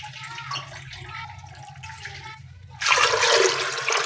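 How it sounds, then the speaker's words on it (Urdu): Water pours into a cooking pot for daal in a home kitchen, starting as a sudden loud, rushing splash after a quieter stretch of faint background sounds. "پہلے پانی ایڈ کر لیا، تقریباً 1 kg سے تھوڑا سا پانی زیادہ رکھیں گے"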